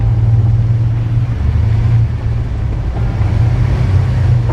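Cartoon cars rumble toward a factory, a loud, steady low engine drone with slight surges, continuous throughout and without voices.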